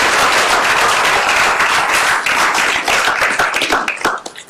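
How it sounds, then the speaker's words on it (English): Sustained audience applause for judges at a climate pitch contest, steady dense clapping from a sizable crowd that begins to thin out near the end. "Give them a round of applause for being here today."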